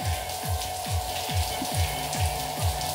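A constant mechanical whir of a modified inverter's blower runs throughout, loud and steady, with a faint repeating thump pulsing under the drone.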